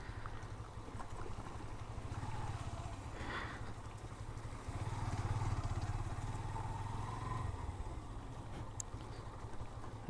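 Motorcycle riding along a rough, badly broken village road, its engine a steady low drone that swells in the middle, with wind buffeting the microphone and no talk.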